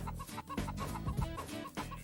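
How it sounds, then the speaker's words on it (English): Clucking from the chicken in the Mort the Chicken video game, a loud repeated clucking pattern over a busy, dense game soundtrack. "Look at that. It's Mort the chicken"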